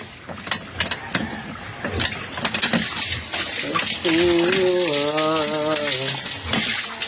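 Water from a hand pump gushes steadily into a container, a continuous splashing flow that swells midway, with a voice calling out over it at first and a hum-like tone in the middle.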